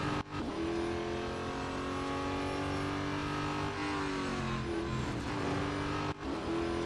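Race car engine in the mobile game Real Racing 3 roars steadily and loud throughout, holding a sustained high drone with slight pitch shifts and two brief dips, one near the start and one near the end.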